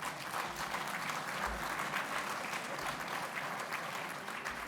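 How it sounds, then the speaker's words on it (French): Sustained applause from a dinner audience at an annual banquet in 2016, following the introduction of a prime minister and a former president; steady, dense clapping continues at an even level throughout. "président de la République, Nicolas Sarkozy, que je vous demande d'applaudir."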